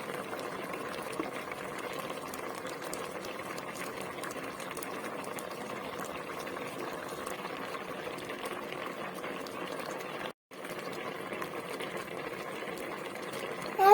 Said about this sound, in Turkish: tatlımız kaynıyor